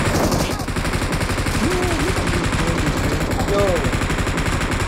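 Rapid, repeated video game gunfire in zombie mode crackles in fast bursts throughout, with a shout and a voice over the shooting.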